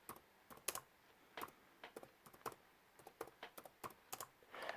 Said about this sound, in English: Now we're going to be typing in ADB sideload.